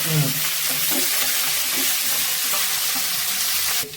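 Steady sizzling and crackling of mustard seeds sputtering in hot oil, a dense hiss that runs throughout with small pops, then cuts off abruptly near the end.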